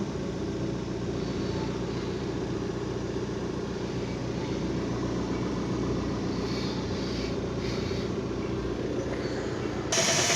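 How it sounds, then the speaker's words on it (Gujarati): A car engine idles just after starting, a steady, unbroken low rumble and hum that holds at the same level throughout with no voices. "ગાડીને ચાલુ કરીને રાખી દઉં ઓઇલ બોલ ચડી જાય એન્જિનમાં"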